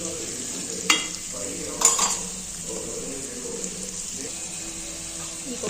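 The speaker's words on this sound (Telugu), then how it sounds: "ఆయిల్లో ఫ్రై చేస్తున్నాను" Boiled eggs frying in oil over a low flame, a steady soft sizzle running throughout with a couple of sharp clinks of a utensil against the pan near the start, close and moderately quiet.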